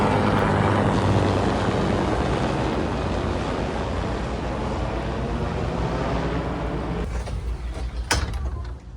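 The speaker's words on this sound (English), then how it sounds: "there were 2 other helicopters with it that were flying over" A loud, broad roar of a helicopter passing low over a boat, filling the air steadily and shaking the windows before easing off, with a sharp clatter near the end.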